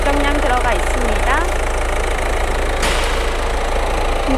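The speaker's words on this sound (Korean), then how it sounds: "엔진 소리 일정합니다" A second-generation Peugeot 308 with a 1.6 BlueHDi diesel engine idles steadily up close, a loud, even low rumble that holds the whole time, with faint chirping sounds and a brief higher noise partway through.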